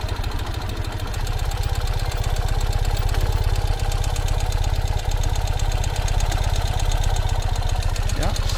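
Single-cylinder-style thump of a 2021 Ural cT motorcycle idling while rolling in third gear, a loud, close, rapid steady pulsing beat that holds evenly throughout with faint road noise beneath.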